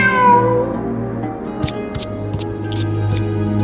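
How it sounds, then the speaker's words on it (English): A video game cat meows several times in short, clear calls over a steady low electronic hum, with faint clicks and chimes scattered in the background. "Who's a good kitty?"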